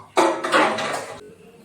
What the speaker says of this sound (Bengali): এখন আমি নোনা ইলিশ ভাজার জন্য কড়াইটা বসিয়ে দেব।